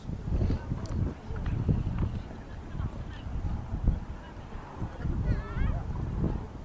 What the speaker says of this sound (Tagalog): birds that you can find near the Stonehenge.